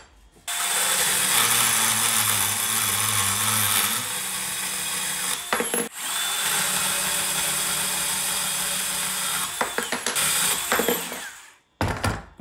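A power tool runs loud and steady for long stretches, ratcheting and whirring as it drives nuts onto heavy warehouse shelving, with brief pauses between runs and a short stop near the end.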